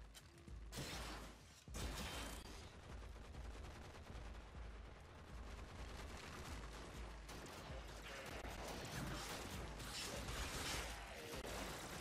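An excavator machine running in the video game Warframe, a dense, continuous mechanical clatter with ratcheting, gunfire-like bursts that holds loud and steady throughout, with one brief dip early on.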